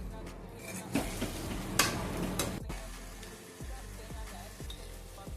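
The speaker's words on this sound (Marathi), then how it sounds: "कांद्याची पात एक दोन मिनिटे परतून घेऊया" Spring onion greens sauté in a pan with toor dal, a soft low sizzle broken by a few sharp scraping strokes and light stirring taps.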